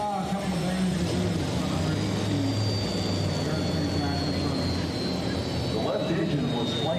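A turbine-powered pulling tractor roars steadily at a county fair truck and tractor pull, a constant loud broadband whine and rumble with a high turbine tone, with an announcer's voice faintly under it.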